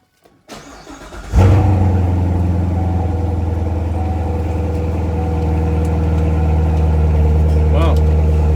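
A Corvette C7 Grand Sport engine cold-starts, cranking and firing into a loud, deep roar, settling into a high, rumbling idle that holds steady and close.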